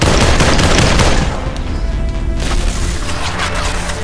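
Heavy gunfire in the VR shooter Population: ONE crackles in dense, rapid bursts, loud and close, with a brief lull before the shooting picks up again.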